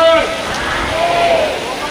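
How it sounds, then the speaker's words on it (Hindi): Heavy rain pours over a decorated katha pandal at a Shiv Mahapuran Katha site in Bhilai, a steady broadband wash of falling water continuous throughout, with a faint tonal whine near the start. "वहाँ भी बहुत ज़्यादा तेज़ बारिश हो रहा है"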